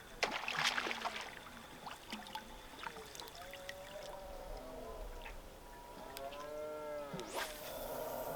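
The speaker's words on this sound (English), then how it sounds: "The noises you hear in the background are just randy deer on their annual rut." Rutting deer bellow across a Scottish sea loch in autumn: low, drawn-out groaning calls repeat in the distance, faint over quiet lapping water.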